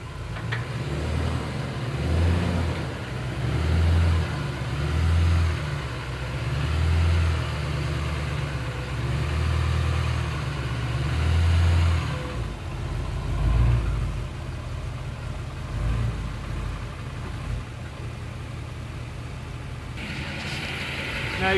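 A vehicle's engine idles and revs in low pulsing surges as it tries to climb ramps onto a cheap step deck trailer, then the engine note drops and fades toward the end.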